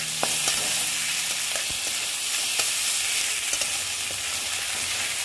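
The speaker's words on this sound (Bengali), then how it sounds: "দিয়ে আবার ভালো মতন আমি এটাকে ভেজে নেব, যাতে আদা রসুনের গন্ধটা চলে যায়" Ginger garlic paste with onions frying in a pan for egg curry, a dense continuous sizzle up close with light intermittent taps and scrapes of a stirring spoon, steady in loudness and without speech.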